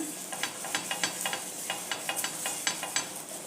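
An onion is rubbed back and forth over a hot, oiled new cast iron tawa, making rhythmic scraping strokes over a soft, steady sizzle, close and without talk.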